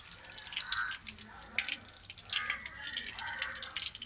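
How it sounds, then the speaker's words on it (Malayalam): Passion fruit being washed under a running tap, with irregular splashing and dripping water bursts close by, fairly quiet throughout. "അപ്പോൾ നമുക്കിത് നന്നായിട്ടൊന്ന് കഴുകിയെടുക്കാം."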